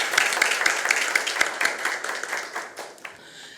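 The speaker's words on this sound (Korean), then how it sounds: "박수로 맞이해 주시기 바랍니다" An audience at a Seoul forum on a youth participation ordinance claps to welcome speakers. Crisp, rhythmic hand claps come in a brisk patter that gradually thins and fades toward the end, with no speech.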